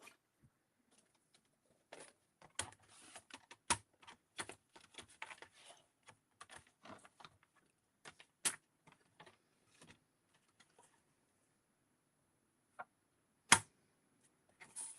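Paper being cut for a junk journal, with sharp close snips and small ticking clicks in irregular bursts against near silence.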